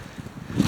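Wind gusting against a camera microphone outdoors at a rural graveyard, a short rumbling buffet of low muffled thumps that swells louder toward the end.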